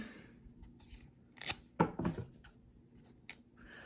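Scissors cut through a piece of tape while making a rocket, a few sharp close snips clustered in the middle, quiet otherwise with faint handling noise.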